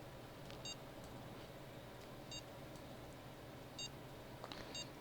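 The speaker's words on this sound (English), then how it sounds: "we got something on rod 3, even though it's just doing that one beep" Several short electronic bite-alarm beeps from a fishing rod in the Fishing Planet game on the Dnipro River, spaced irregularly over a steady low ambient water-and-outdoor background, with no talking.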